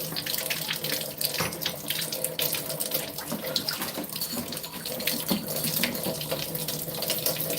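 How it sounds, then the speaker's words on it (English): A kitchen tap runs with a steady, full rush of water splashing into a sink, continuous and close, with no talking. "And sometimes when you do run them through water,"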